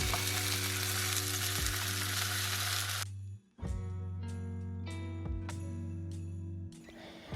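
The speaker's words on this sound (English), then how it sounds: "Put the pan on high heat and bake the tofu until golden brown while you flip them" Tofu browning in a pan over high heat gives off a steady loud sizzle, which drops away briefly in the middle before resuming as a fainter crackle with a few sharp clicks over a low hum.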